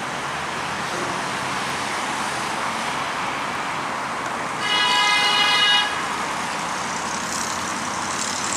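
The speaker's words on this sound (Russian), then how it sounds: "Машины, машины." Street traffic rolls past on a city road in a steady background rumble, and a car horn honks once for about a second midway through.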